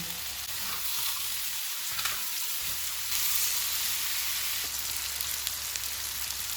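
Tawa keema kababs sizzle steadily on a hot griddle, a continuous close crackle and hiss of frying with no voices.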